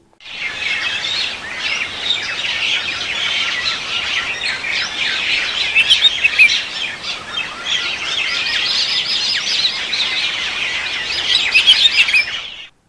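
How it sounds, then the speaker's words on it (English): A dense chorus of many birds chirping and twittering continuously, loud and close, with no talking. "Do you want to hear the sound of birds, the chirp of birds?"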